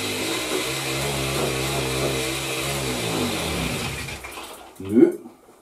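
A Zündapp 442 engine, turned over without the cold starter while warm, churns with a loud mechanical drone that gradually winds down and dies, followed by a short knock.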